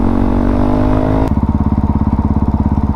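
A Honda CRF450RL dirt bike being ridden sounds near and loud: a steady, smooth engine note that suddenly drops into a fast, lumpy, thumping rhythm.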